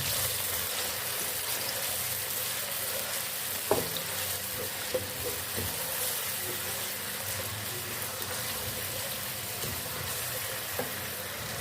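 Onions frying in cooking oil in a pan, a steady soft sizzle and crackle with a few clinks of a stirring utensil, close and moderately quiet, no talking.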